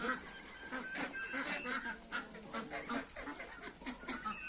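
A flock of turkeys and chickens calls together in an overlapping, chattering clamor of honks, clucks and peeps, moderately close and continuous throughout.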